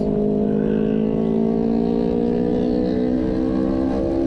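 Kawasaki Ninja 250 FI motorcycle exhaust rumbling steadily and loudly at close range, a continuous deep engine drone with strong low harmonics throughout.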